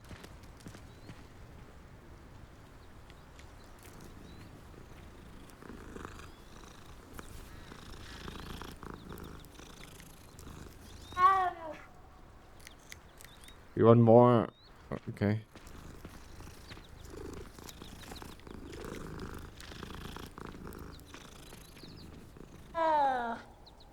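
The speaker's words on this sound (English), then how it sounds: "Hello, kitty cat." A cat in the video game Hogwarts Legacy purrs softly and continuously in the background, with a few brief, louder chirping bursts and a man's short remark.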